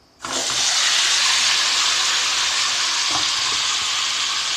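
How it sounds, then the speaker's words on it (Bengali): Eggs mashed with a knife hit hot oil with a sudden loud burst of sizzling that then holds as a steady, strong frying hiss, with faint stirring taps. "তেলটা গরম হয়ে গেছে, ডিমগুলো দিয়ে দেবো"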